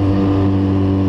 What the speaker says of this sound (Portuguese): as motos tá berrando pra caralho